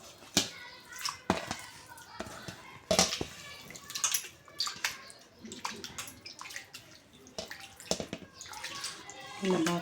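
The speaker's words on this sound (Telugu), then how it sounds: "చికెన్ బాగా కడుక్కున్నాం ఫ్రెండ్స్, గలీజ్ ఉంటుంది కదా, కడుక్కోవాలి బాగా." Raw chicken is washed under running tap water, with splashing and dripping, intermittent clatter and a voice now and then under the flow.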